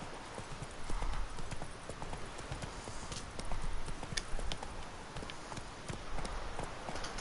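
Roach, the horse from The Witcher 3: Wild Hunt, gallops in a steady, fast clip-clop of hooves that stays close and loud throughout, with faint game ambience underneath.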